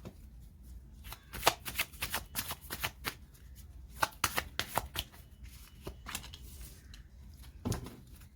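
Tarot cards shuffled by hand in a series of quick, crisp riffling bursts with short pauses between them, close and fairly quiet, with no voice over it.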